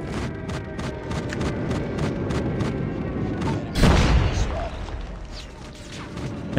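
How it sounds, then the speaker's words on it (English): Explosions boom continuously in a Call of Duty multiplayer match, with a steady roar of blasts and gunfire and a heavier close impact hitting near the middle. "The constant sound of just bombs hitting right now."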